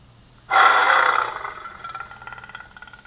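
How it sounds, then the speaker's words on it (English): Boot-up effect from a Graflex prop lightsaber: a sudden loud electronic surge that kicks in half a second in, holds a harsh roaring buzz for about a second, then settles into a fainter pulsing hum. "we got a boot up sound."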